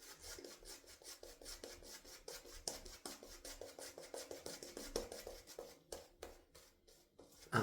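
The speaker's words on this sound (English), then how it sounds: "I'm just shaving the beard lines, even if I possibly should" A wet-shaving razor cuts along beard lines over slick soap lather, giving close, rhythmic rasping strokes in quick succession that pause briefly near the end.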